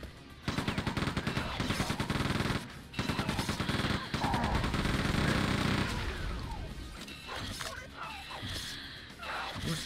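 Rapid bursts of gunfire from the Quake II first-person shooter, loud and repeated over the first half, with brief gaps, then fading into quieter game effects; a voice speaks over part of it.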